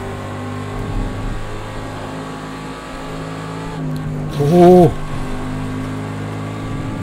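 Aston Martin Vantage GTE race car engine in a racing game on the Nordschleife, a steady droning hum with a brief sharp rev blip midway, as a voice briefly exclaims.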